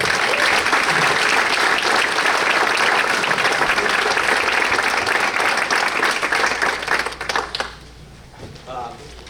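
A banquet crowd applauds the varsity underclassmen of a Baldwinsville boys lacrosse team, dense steady clapping filling most of the stretch before thinning out near the end as a voice begins.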